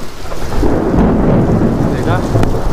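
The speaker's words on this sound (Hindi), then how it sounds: "पहले बिजली होती है और बाद में वो गरजने की आवाज़ आती है" Deep thunder rumbles through a heavy rainstorm, loud and rolling over steady rain pattering on surfaces for the whole stretch.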